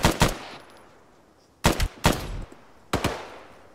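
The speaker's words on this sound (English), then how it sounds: "That sounds like a 249." Bursts of M249 machine gun fire in the military shooter Arma 3, three or four short, sharp volleys separated by pauses, fairly close and loud with no voices over them.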